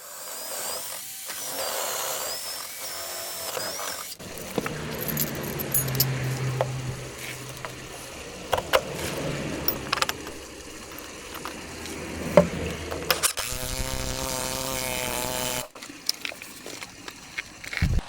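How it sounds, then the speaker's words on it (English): A power impact driver tightens bolts on a metal plate while building a wooden jetty outdoors, giving dense rattling, clattering hammering and a whining burst near the end, loud and close against steady background noise. "using the impact driver just to make sure that they're really wrenched down nice and tightly"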